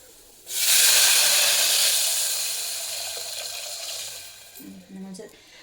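Water poured onto spices frying in hot oil, with lightly grated ginger in the pan, bursts into a loud, broad hiss that slowly fades into softer sizzling, followed by a few clinks near the end.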